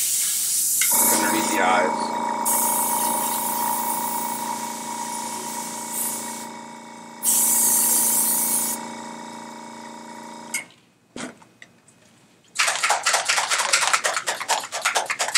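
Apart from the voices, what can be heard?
airbrush spraying zombie special effects makeup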